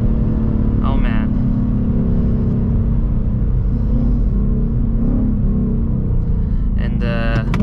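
A 2024 Ford Mustang GT V8 holds a steady, loud engine drone at high RPM with a constant rumbling bed, and brief voices come in over it.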